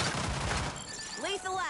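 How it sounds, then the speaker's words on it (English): Rapid gunfire from a team-based video game, dense and continuous through the first second under speech-like game audio, then thinning out as other game effects take over. "I'm getting shot from the other side."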